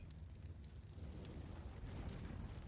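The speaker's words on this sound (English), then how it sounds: "Oh my goodness, a double nade." Grenade blasts in a Counter-Strike match on an esports broadcast, heard as rolling low booms and rumbling bursts that overlap back to back, with heavy low-end thuds and a crackling tail.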